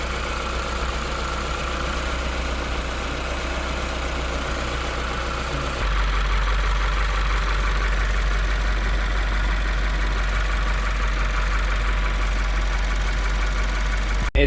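A 2017 Subaru WRX engine idles before an oil change, a steady close-up mechanical hum and rumble that shifts slightly in tone partway through, with no talking.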